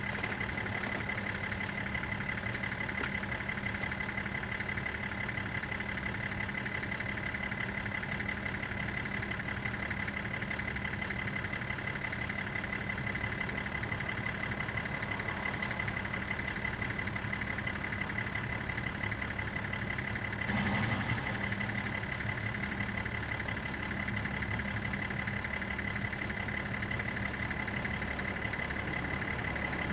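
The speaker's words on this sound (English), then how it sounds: "Sorry about the engine noise, but I just have to create a bit of warmth." A car engine idles steadily and close by for the whole stretch, a constant low hum with a faint tonal drone, parked trackside in cold weather and with no talk over it.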